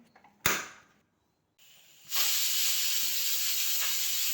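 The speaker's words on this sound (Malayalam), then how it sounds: "കുക്കറിൻ്റെ അടപ്പ് വെച്ച് വിസിലടുപ്പിച്ചെടുക്കാം" A pressure cooker with mung beans inside gives a sharp burst of hiss, goes quiet, then vents a loud, steady stream of steam that hisses continuously nearby.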